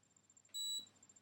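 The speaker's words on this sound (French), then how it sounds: "3 bips et on commence à la bouger." A single short electronic beep from a facial skincare device sounds once, close and clear, against a faint steady hum.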